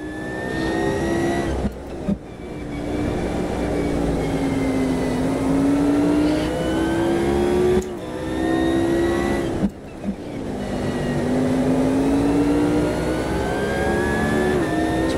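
A Mercedes-Benz CLK LM race car at Monza revs hard, its engine rising in pitch through repeated long pulls, with brief sharp drops at gear changes, loud and close throughout.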